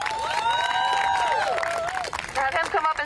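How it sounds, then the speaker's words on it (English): At a student protest rally in Washington, D.C., the crowd claps and cheers for a professor. Whoops and shouted voices ring over the clapping, which thins out toward the end. "So I would like to give a round of applause for Professor Hampton."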